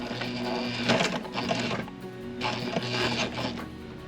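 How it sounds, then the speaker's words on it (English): Sailrite sewing machine stitching fabric aboard a boat, two steady runs of rapid mechanical clattering separated by a short pause, close and without talk. "and then we'll start sewing"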